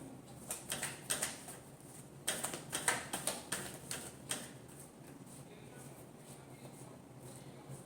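Tarot cards shuffled by hand in a series of quick papery riffles and flicks, near and moderately loud, then trailing off into quieter rustling.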